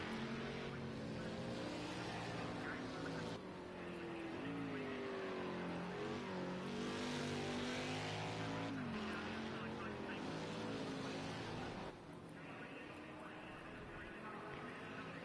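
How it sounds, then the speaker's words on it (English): Race cars in a sim racing series at Sonoma entering the hairpin, engines droning and shifting pitch as they brake and downshift, a continuous layered engine sound with a commentator talking over it. "as you can see cars entering the hairpin at speed"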